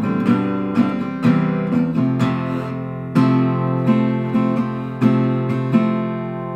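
Acoustic guitar strumming the chorus chords of a song, with bright, full strums falling in a steady rhythm and a few accented downstrokes, played alone and close up.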